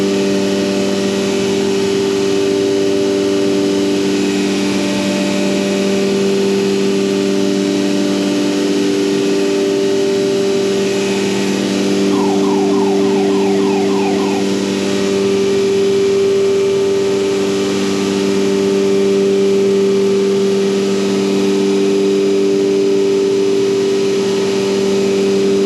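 A CNC router recuts a 10-inch wooden door pull, its spindle giving a loud continuous high whine with steady tonal harmonics throughout, with no speech.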